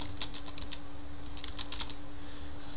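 Bursts of typing on a computer keyboard at a desk, clustered key clicks in two short runs separated by a pause, steady hum underneath and no voices.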